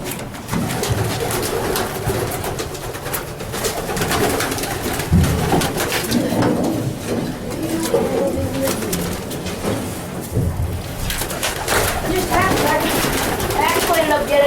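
Retired racing pigeons coo inside a farm loft, soft repeated throaty calls close by amid rustling and bird chatter, with a person talking at times.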